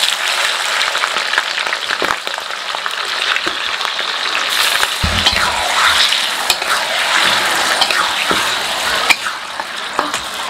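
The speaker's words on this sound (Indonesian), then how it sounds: "Pertama minyaknya dipanasin dulu, terus masukin gula batu sampai gula batunya larut." Rock sugar melting in hot frying oil, a continuous loud crackling sizzle with scattered sharp pops and clicks throughout, close up and without speech.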